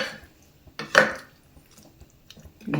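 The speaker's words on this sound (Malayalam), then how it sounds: "ഫ്രൈ ചെയ്ത് വെച്ചിരിക്കുന്ന പൊട്ടറ്റോ ചേർത്ത് കൊടുക്കാം നല്ലതുപോലെ ഇളക്കി മിക്സ് ചെയ്യാം" A spoon stirs fried potatoes into a spinach curry in a pan, with scattered utensil clinks and scrapes against the metal, one sharp knock near the start and another at the end, amid quiet pauses.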